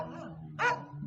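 A single short bark from a dog on a village plot, close and fairly loud, sounding over a faint background hum.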